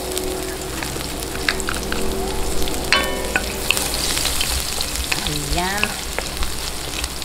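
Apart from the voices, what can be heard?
sautéing garlic in oil for bangus humba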